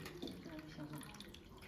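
Water pours out of a diode laser hair removal machine: a faint, steady trickle and splash with a low voice heard faintly in the background.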